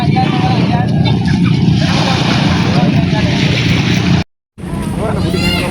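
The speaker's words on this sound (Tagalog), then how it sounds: "marami na rin pong dumarating ditong mga bangka" Fishing boats pull into a busy landing, a steady close engine drone with water wash that fills the whole stretch, cutting out for a moment near the end, while voices chatter in the background.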